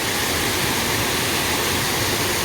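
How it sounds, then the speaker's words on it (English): A small side waterfall at the Back Creek Falls swim hole in Beechmont, Queensland, gives a steady broadband rush of falling water, close and continuous with no voices. "There's another little waterfall to the side there, as you can see."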